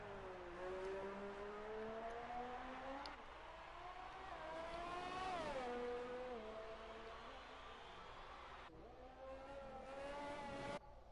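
Race car engine in an F2 racing video game, revving and shifting through gears on a lap of the Canada circuit, a loud continuous whine rising and falling with each upshift and braking zone.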